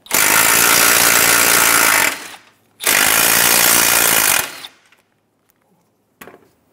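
Power tool backing out 10mm bolts from the hood latch of a 2014-2019 Toyota Highlander: two loud, harsh buzzing bursts of about two seconds each, close up, followed by near silence and a brief faint tail.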